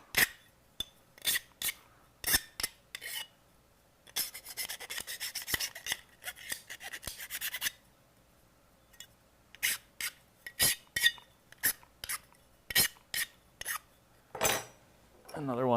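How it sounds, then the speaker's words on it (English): A cut chassis tube is filed and deburred by hand in short, rhythmic rasping strokes, sometimes a quick series of scrapes and sometimes a steadier run, with brief pauses between. "so we can deburr the inside this way as well. You can just keep filing it too if you prefer."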